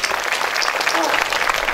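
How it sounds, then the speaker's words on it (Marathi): An audience at a Hindu temple devotional singing gathering applauds the singers, a dense burst of clapping lasting a couple of seconds, with voices mixed in. "सगळ्यांकरता एकदा टाळ्या वाजवा गायकांसहित."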